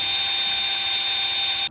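Power drill spinning a priming shaft to prime the oil pump of a 1970 Plymouth Roadrunner 440 Six Barrel engine, a loud steady high whine that cuts off abruptly at the end.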